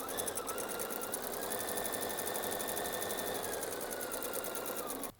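A sewing machine stitching straight down a quilt block seam without stopping, a steady fast mechanical whir and needle chatter running continuously at close range until it halts abruptly at the end, with no voices.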